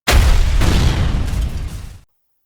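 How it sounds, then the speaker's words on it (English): A single loud explosion in a castle hallway, with a deep booming rumble that fades over about two seconds, then cuts to silence. "until he heard and felt an explosion."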